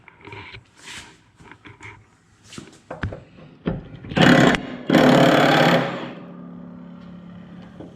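An impact wrench on a 1-1/8 inch nut at a car lift fires two loud, close bursts that rattle and whine, following scattered clanks and taps of tools, with a lingering hum after.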